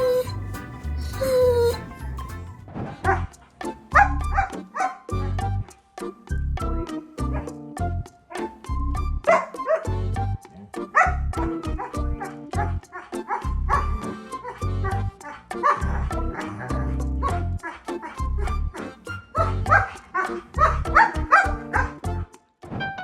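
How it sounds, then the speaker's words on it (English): A chatty dog at home gives a long run of varied barks, yips and whining vocal sounds in uneven bursts, close and fairly loud, with a brief higher cry near the start. "This is the most wonderful dog. It just talks too much."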